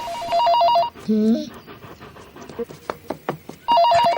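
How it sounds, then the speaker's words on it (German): An electronic telephone trills in two bursts at the start and end, with a sliding whistle-like tone and scattered clicks and muffled voice sounds between. "Rex, was ist jetzt mit dem Telefon"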